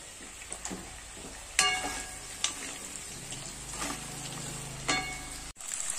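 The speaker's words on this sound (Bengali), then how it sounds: "আলু আর রাঙা আলু, কাঁচকলা, পেঁপে দেখুন সামান্য ভাজা হয়ে গেছে" Potato, sweet potato, green banana and papaya pieces fry in oil with a soft, low sizzle, punctuated by a few sharp clatters of a spatula against the pan before a brief cut.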